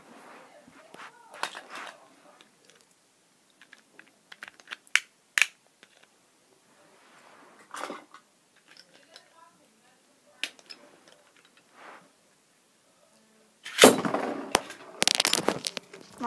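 Beyblade tops ripped from a double launcher, then sharp clicks and clattering hits as they collide and spin in a stadium, with quiet gaps, scattered ticks and a louder burst of clashes near the end.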